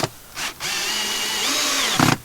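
A power drill drives stainless screws into a boat's replacement wood floor: a couple of short motor bursts, then one sustained whining run of about a second and a half, close and loud, with no talk.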